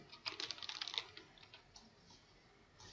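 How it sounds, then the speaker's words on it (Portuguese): A short, quick burst of close, quiet computer keyboard typing, about a second of rapid key clicks, followed by a few faint isolated taps. "Quando eu digitar aqui o nome início"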